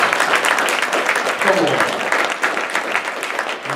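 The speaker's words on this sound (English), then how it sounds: "Come on, give him a round of applause for that" Sustained applause from a conference audience after a speaker's talk, dense steady clapping filling the room for several seconds with a brief voice underneath.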